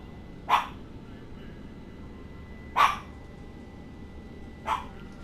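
A dog barks three times, single loud barks spaced a couple of seconds apart, over a quiet indoor background with low hum.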